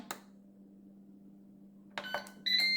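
Ninja Speedi cooker control panel beeping as air fry and sear modes are set: after a quiet stretch over a low electrical hum, a couple of short clicks and beeps, then a sustained bright electronic tone.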